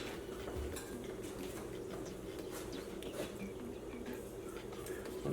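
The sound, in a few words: handling measuring spoons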